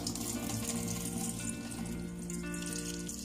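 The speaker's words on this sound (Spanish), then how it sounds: "Aquí sí le vas a abrir un poquito más al chorro" Tap water runs steadily from a kitchen faucet opened a bit wider, rinsing a chile during cooking, a continuous close hiss and splash with no one talking.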